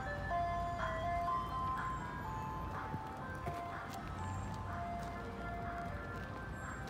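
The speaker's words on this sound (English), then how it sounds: "Ice Cream Man is coming." An ice cream truck jingle plays as a steady electronic melody, moderately distant over a constant engine and road-noise background, with no clear talking.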